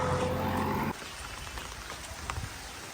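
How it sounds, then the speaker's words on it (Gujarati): Light rain starting to fall outdoors, a soft steady patter of drops that continues at low level after a louder, humming background cuts away early on. "થોડો વરસાદ ચાલુ થઈ ગયો છે"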